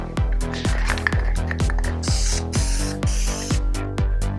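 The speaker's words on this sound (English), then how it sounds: "So I'm gonna give them a little spray." A spray paint can coats branches white, giving repeated short hissing bursts in a quick steady rhythm, each followed by a rattling click, loud and close with no voices.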